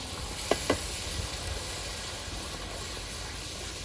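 Tomato puree goes into a sizzling aloe vera curry, with a couple of sharp clinks near the start, then a steady hissing sizzle at moderate level.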